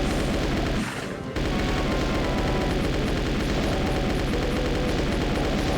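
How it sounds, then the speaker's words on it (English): Submachine gun fire in Doom II, dense continuous rapid shots with blasts, loud and sustained, with a brief dip near the start before firing resumes. "we're just gonna gun all these guys down"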